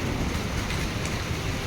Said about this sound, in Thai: ก็รู้สึกว่าฝนตกลงมาแล้วยิบๆแต่ตอนนี้ได้ยินบ่โคได้ยินเสียงฝนบ่